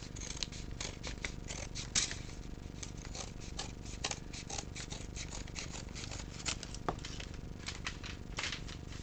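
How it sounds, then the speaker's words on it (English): Scissors snip through paper during a papercraft build, with a fast, steady run of close, crisp cuts that continues without a break and has no talking. "Scissors."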